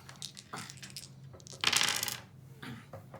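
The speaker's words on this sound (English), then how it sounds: "now he gets to roll all the dice" Dice rattling and tumbling onto a tabletop during a Cardiceo board game, a short loud clatter near the middle with softer clicks and handling noises around it.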